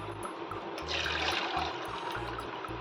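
Water splashes and drains steadily from grated potato through a strainer, a continuous gushing rush with a low rumble underneath.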